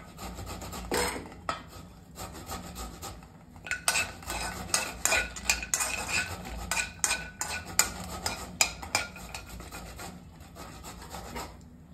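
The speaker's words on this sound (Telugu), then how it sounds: "ఒక బౌల్లో ఉన్న జీడిపప్పుని దూర వెచ్చగా వేయించాలి" Cashews fry gently in a pan and are stirred with a utensil, giving repeated close scraping and rubbing strokes that scratch against the metal in an uneven rhythm.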